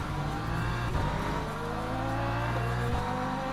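A GT3 race car in Le Mans Ultimate at Monza, its engine droning steadily with rising and falling pitch as cars run close by, loud and continuous with no voices.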